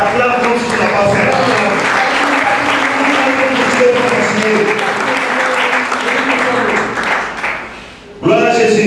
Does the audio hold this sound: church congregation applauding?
yes